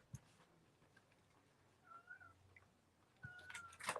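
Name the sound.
cat meowing outside the door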